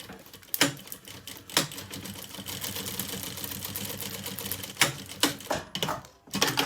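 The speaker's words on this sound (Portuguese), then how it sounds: "fazemos então uma costura pé de máquina" A sewing machine stitches a lining seam on a children's lunch bag, a close rapid mechanical clatter running throughout with several sharper clicks and knocks as fabric is handled.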